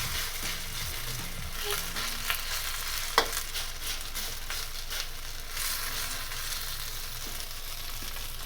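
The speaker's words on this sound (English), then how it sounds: "You want to spread your noodles throughout the pan" Noodles fry in a pan for a vegetarian beef chow fun, with a steady, dense sizzle and occasional stirring and scraping noises close by.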